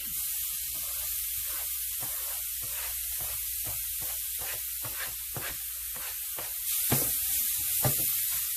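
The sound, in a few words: codfish sizzling as it is added to hot oil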